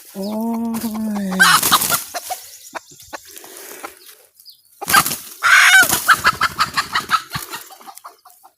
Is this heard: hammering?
no